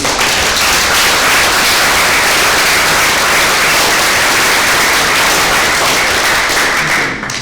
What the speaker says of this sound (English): So let's have a round of applause for him.